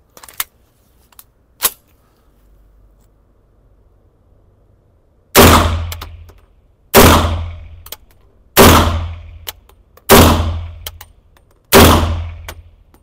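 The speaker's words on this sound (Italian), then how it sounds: "sparo 5 colpi e vediamo il bersaglio" Five loud shots from a pistol fitted with a red dot sight ring out one after another at even intervals of under two seconds, each with a short echoing tail, after a couple of faint clicks.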